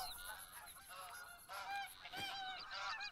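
Several loud, nasal goose honks from TheHunter: Call of the Wild, coming in quick irregular bursts, some overlapping, with no talk over them.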